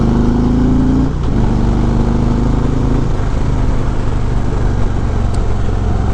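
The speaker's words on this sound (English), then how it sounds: "This bike just wants to go now." A 2019 Harley-Davidson Road Glide Special with a 114 engine and Kraus handlebars drones loudly while riding, with steady low rumble, shifting engine pitch and constant wind noise.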